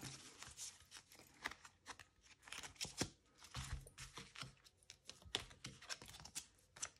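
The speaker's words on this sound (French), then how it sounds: "On va mélanger les cartes." A deck of oracle cards is shuffled by hand close by, giving quiet, rapid riffling and slapping bursts that come one after another over several seconds.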